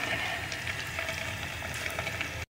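Semolina chips frying in very hot oil, a steady dense sizzle and crackle holding close and even throughout, then cutting off abruptly.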